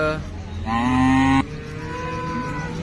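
A cow that calved a month and a half ago moos loudly at a livestock market, a single long drawn-out call rising in the middle over a busy background of other animals and murmur.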